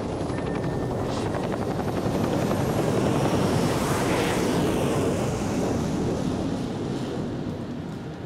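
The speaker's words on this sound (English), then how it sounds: "We can take the Chinook here right now" Chinook helicopter in a carrier-deck survival video game, its heavy twin-rotor thrum steady and loud throughout with a whooshing wash over it.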